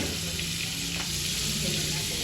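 Butter sizzles and crackles steadily in a hot frying pan while butter shrimp is being prepared, a constant close frying hiss with faint background hum.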